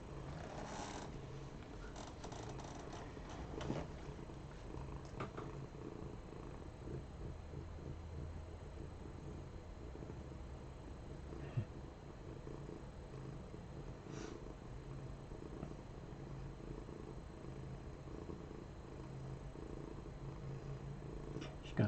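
A female cat purrs close up, a deep continuous rumbling drone that holds steady for the whole stretch with only small shifts, no voices over it.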